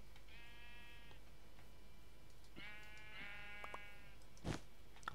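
Two drawn-out bleats from a Minecraft sheep, fairly clear and steady against a faint background hum, with a brief sharp click near the end.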